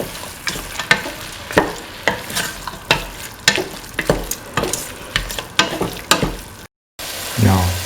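A spoon scrapes and stirs through a sizzling duck and green chili mixture in a pan, with regular strokes over a continuous frying hiss.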